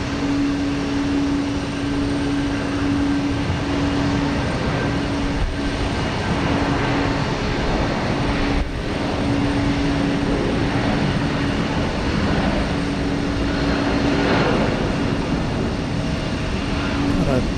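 Two airliners taking off together at Houston Intercontinental, a steady distant jet roar with a sustained engine whine holding throughout, loud and continuous.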